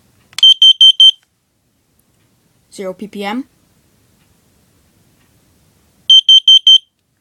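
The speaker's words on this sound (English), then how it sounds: "the Mutter carbon monoxide alarm" A carbon monoxide alarm sends out two bursts of four sharp, high electronic beeps, one at the start and one at the end. A brief spoken phrase falls between the bursts, and the rest is silent.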